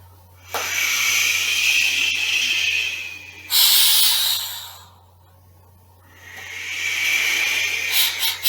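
Wind through trees imitated with junk percussion: soft airy hissing swells rise and fall in two long waves with a brief brighter gust between them, close and alone.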